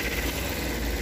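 A Tata Ace engine runs rough and misfiring, a steady low idling rumble with a shaky, uneven vibration, heard alone without talk.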